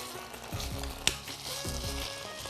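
Minced beef frying in a pan, a steady close sizzle and crackle with soft stirring scrapes and one sharp clink of a utensil against the pan.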